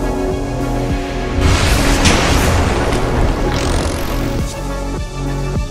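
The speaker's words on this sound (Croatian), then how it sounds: "Usprkos sireni i eksplozijama, Petar i Mario misle" Explosions during an invasion in the video game Minecraft, a loud rumbling boom swelling and rolling over several seconds amid sustained droning game noise, with a rising whine near the end.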